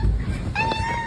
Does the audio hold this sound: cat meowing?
yes